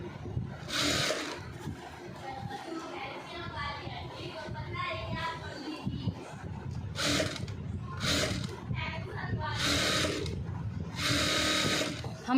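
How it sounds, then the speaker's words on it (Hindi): A domestic sewing machine stitches a short koti jacket in bursts of rapid whirring, alternating with pauses as a woman explains the work nearby. "हम डबल सिलाई लेंगे इस तरह से पलट के।"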